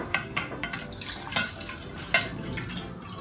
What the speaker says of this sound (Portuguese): Primeiro, nós vamos pegar a água e dispensar na tigela.